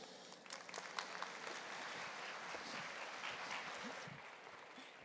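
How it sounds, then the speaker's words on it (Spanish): Soft, distant applause from a public accounting congress audience, many hands clapping in a continuous, even patter that stays steady and quiet throughout. "Recibámosla con un fuerte aplauso."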